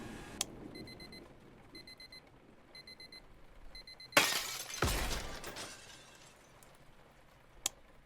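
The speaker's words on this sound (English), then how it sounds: "Annoying alarm clock out of reach it is" An alarm clock ringing in short repeated electronic beeping bursts at a steady rhythm, faint and a little distant, then cut off by a loud sudden crash of shattering glass, followed by quiet with a couple of sharp clicks.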